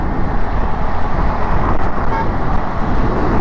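A car drives through busy Mumbai-area traffic, its engine and road noise a constant loud wash, with a horn tooting now and then among the surrounding vehicles.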